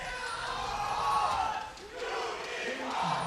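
Esports arena crowd of Unicorns of Love fans at an EU LCS qualifier match against H2K Gaming, a steady swelling roar of cheering and chanting, with a commentator's voice faintly underneath.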